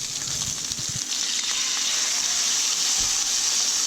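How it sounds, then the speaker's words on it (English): Crappie and perch go into preheated oil in a frying pan and set off a steady, loud sizzle, with a few soft thumps early on as the fish are laid down. "You want to hear that sizzle."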